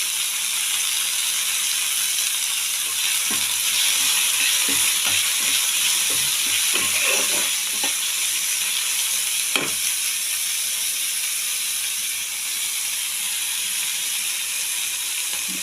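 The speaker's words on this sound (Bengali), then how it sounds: "এবার এটা দিয়ে আমি একটু ভেজে নেব।" Carrots and beans fry with spices in a pan, giving a steady loud sizzle for about fifteen seconds, with scattered clinks and scrapes of stirring through the middle stretch.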